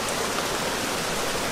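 Steady rain pattering down on a hiking trail in Ireland, a dense even hiss that fills the short moment without any voices.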